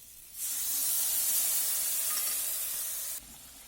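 Spices hit a hot pan with a sudden loud hiss that holds steady for about three seconds and then cuts off, close by, with no talk.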